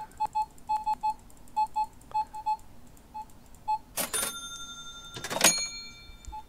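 A cash register at a supermarket checkout in the game Supermarket Together gives a run of short, evenly repeated beeps as items scan, then two louder bursts of register clatter and chime near the end.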